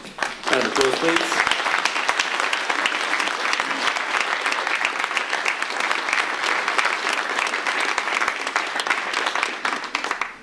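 Sustained, loud applause from a school audience at a certificate of achievement ceremony, dense clapping that continues evenly for about ten seconds with some voices mixed in near the start.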